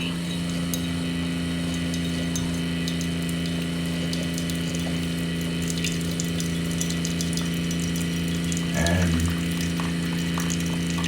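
A Keurig K Select coffeemaker pumps fresh water through during a descaling rinse, a steady mechanical hum with watery churning running throughout, plus a brief louder gurgle near the end.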